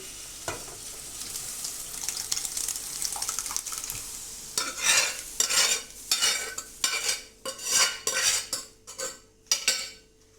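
Yellow dal stirred into a pot of spiced oil, starting with a soft sizzle and then turning into repeated loud scraping strokes of a spoon against metal in an uneven rhythm.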